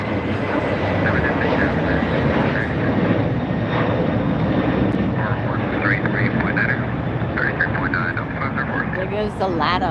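A LATAM Airlines jet taking off from LAX, a sustained loud engine roar holding steady throughout, with radio chatter and talk layered over it.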